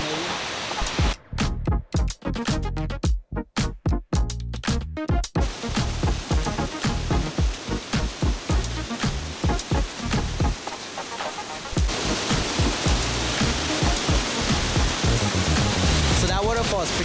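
A huge waterfall in northern Bali roars as a loud, constant broadband rush, broken early by sharp gaps and dropouts, then steady and dense to the end.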